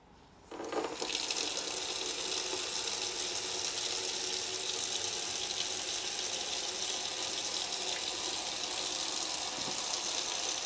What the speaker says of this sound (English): I've just filled up my tub about halfway with warm water